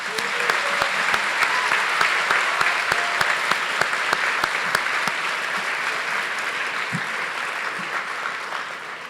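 An audience applauds honorees at the 2023 LHS Distinguished Alumni ceremony, a steady wash of clapping with a few sharp, distinct claps near the start and a voice faintly audible underneath.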